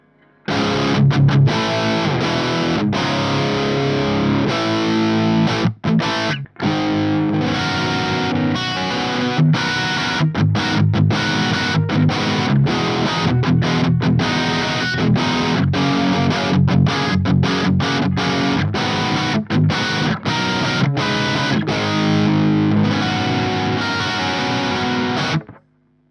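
Heavily distorted electric guitar through a high-gain Mesa Boogie Dual Rectifier tube amp plays a dense, loud riff for about twenty-five seconds, thick saturated chords with brief stops and palm-muted chugs.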